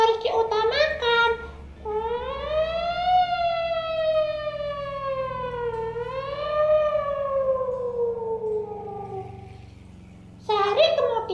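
A wailing ambulance siren rises and falls in long, loud sweeps, with brief bursts of other sound at the start and end.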